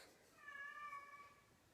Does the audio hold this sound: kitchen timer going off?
no